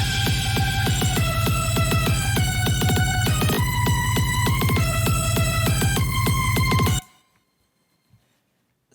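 An electronic track built in Ableton Live plays loud and steady, with a pounding kick drum on every beat under bright, repeating synth lead stabs, then cuts off abruptly into near silence for the last two seconds.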